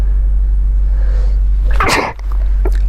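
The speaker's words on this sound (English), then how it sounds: "I just really needed to sneeze." A single loud, close sneeze bursts out after a quiet stretch of low steady hum inside a Range Rover V8 during off-road driving.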